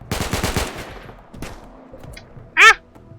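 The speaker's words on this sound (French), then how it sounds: "Il me tire dessus." A rapid burst of automatic gunfire rattles out in the RimWorld video game, followed by a lone fainter shot and a short, high tonal cry, all close and fairly loud.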